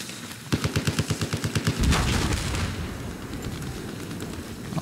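A hostile machine gun in Battlefield 4 on the Pearl Market street map rattles off a rapid, evenly spaced burst of about a dozen loud rounds, then gives way to a blast-like roar and lingering battlefield rumble.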